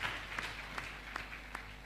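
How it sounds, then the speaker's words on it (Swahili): A seated audience at a gathering claps for themselves, a faint, steady patter of applause with a few sharper individual claps standing out. "Naomba mjipigie makofi."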